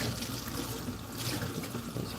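Hot water pours steadily from a tap, an even, moderately quiet rushing hiss with no speech over it.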